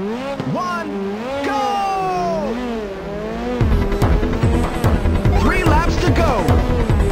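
Race car engines roar in the PSP video game Ridge Racer, loud sweeping revs rising and falling through the first half, then a denser, grittier engine drone with brief pitch swoops, steady and close throughout.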